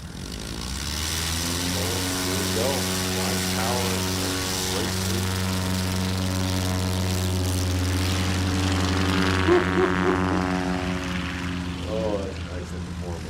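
Propeller STOL airplane at the Music City STOL 2025 event in Gallatin, Tennessee, flying and landing while crabbing into a crosswind, its engine a steady loud drone with harmonic hum throughout, pitch shifting near the end, with commentators talking over it.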